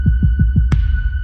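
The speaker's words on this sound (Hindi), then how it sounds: "मैं तुम्हारी धड़कन सुन सकता हूँ।" A heartbeat sound effect from a dark fantasy series trailer throbs in four steady, deep double-thumps, then a sharp hit rings out and leaves a sustained hum; no one speaks.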